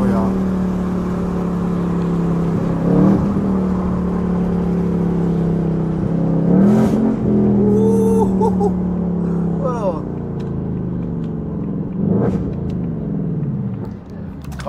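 A car fitted with a Steeda air intake rumbles and revs in several short bursts over a low idle, with someone talking over the engine.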